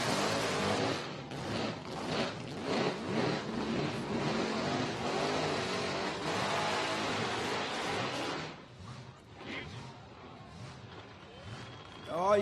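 A blown burnout car revving hard at the Summernats car festival, a loud sustained engine roar with surges, then easing off toward the end, with a commentator talking over it.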